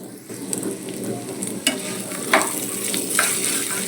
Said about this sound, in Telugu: ఒక స్పూన్ మెంతులు వేస్తాను. బాగా ఫ్రై అయ్యేవి.